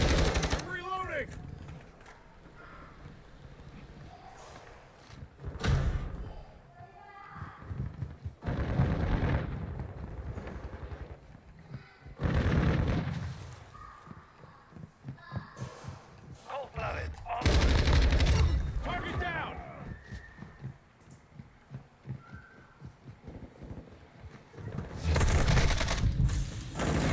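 Rapid gunfire bursts and explosive blasts from a Call of Duty 2 multiplayer match, loud and clustered in repeated volleys with gaps between, while someone talks excitedly over the action.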